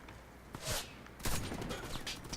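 Gunfire in the online shooter Warface, two distinct loud shots about half a second apart followed by a rattle of quicker crackling reports, heard fairly close with no talk.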